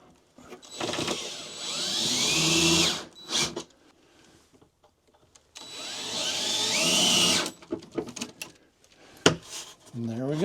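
A power drill drives screws into a panel inside a Ford Transit van in two long whining bursts, each rising in pitch as the screw seats, followed by shorter clicks and handling noises up close.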